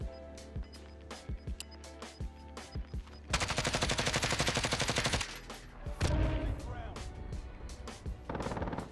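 Gunfire from a nearby fight in the Call of Duty Warzone video game: scattered single shots give way to a long, loud automatic burst, then further volleys, with talk alongside.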